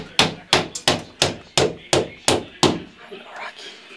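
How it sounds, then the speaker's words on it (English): Hammer blows while a ceiling is being installed: about nine sharp, loud strikes in a steady rhythm, each ringing briefly before the next, with the last few softer and tapering off. "Going up the steps. Hammer. Start hammering."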